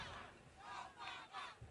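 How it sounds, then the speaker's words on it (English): Enthusiastic election night crowd in Grant Park, Chicago, screaming and roaring in surging waves, quiet and distant-sounding, with no voice up close. "you have a very enthusiastic crowd, and they're going to be screaming no matter what you say"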